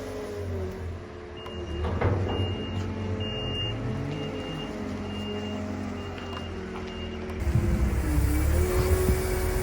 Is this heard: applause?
no